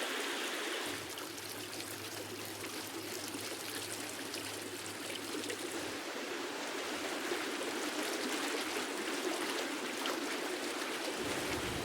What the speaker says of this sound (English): From beneath the waterfall, the sound of running water echoes in the cave.